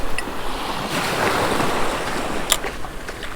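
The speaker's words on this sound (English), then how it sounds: "The wind has picked up a little bit and it's quite a bit choppier on this side" Gusty wind and choppy surf waves wash steadily at a beach used for topwater popper fishing, a broad continuous roar with brief wind buffets on the microphone.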